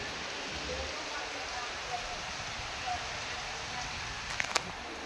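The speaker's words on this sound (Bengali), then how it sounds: "দেখো কেমন বৃষ্টি হচ্ছে, দেখো মন্দিরে পুরো সব ভিজে গেছে, কী পরিমাণে বৃষ্টি হচ্ছে" Heavy rain pouring down at a temple, a dense steady hiss of falling water throughout, with a couple of brief sharp knocks near the end.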